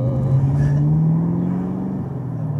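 A 650hp Camaro ZL1 engine drones and climbs in pitch under acceleration, a loud, steady low rumble heard from inside the car with a rising tone, then easing back.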